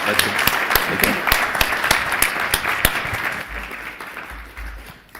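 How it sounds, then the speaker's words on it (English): An audience at an Empire Club panel presentation applauds the panel with a full, steady burst of clapping that gradually fades over several seconds. "let's give our panel a huge round of applause"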